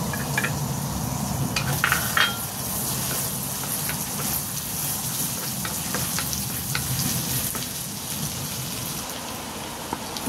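Ginger fries in sesame oil in a pan with a constant close crackling sizzle, popping like dense rain, plus occasional sharper spatters and stirring scrapes, and no talk.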